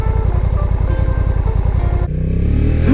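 Honda NT1100 motorcycle accelerating hard, its engine loud and close with a rapid pulsing beat that jumps to a higher, rising whine midway as it picks up speed; no talking.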